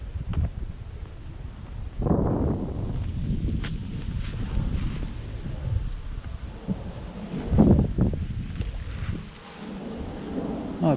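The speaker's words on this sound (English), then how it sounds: "Oh, it's windy." Gusty wind buffets the microphone outdoors during a walk, with low rumbling blasts rising and falling, strongest in bursts, loud and close.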